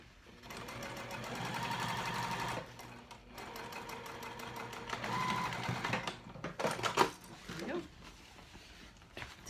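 A sewing machine stitches seams on a Noodlehead Range backpack in a few close runs of fast mechanical whirring, pausing between passes, with fabric handling and rustling in the gaps.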